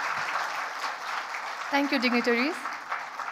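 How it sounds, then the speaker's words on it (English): An audience at a teen hero award gala in Nepal applauds, a moderate, steady clapping that carries on as someone speaks briefly over it. "can we have a huge round of applause for all Glocals 20 under 20?"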